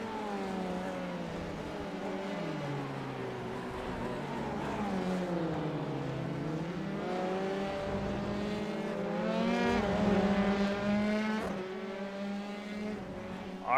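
Formula 3 race cars lapping Circuit de Spa, a continuous engine whine rising and falling in pitch as the cars run close together near the line, with a steady loud drone throughout.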